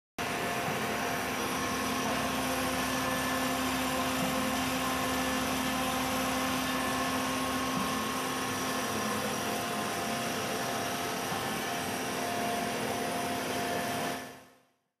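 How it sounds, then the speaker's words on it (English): A computer-controlled CNC PCB drilling machine runs with a steady, loud motor whine and broadband hum that holds constant throughout, then cuts off abruptly at the end. "The next project on the list is computer controlled PCB drilling machine."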